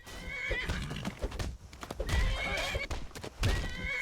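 A horse whinnies loudly while hooves clip-clop underneath, amid busy, layered sound effects of combat in the video game Skyrim.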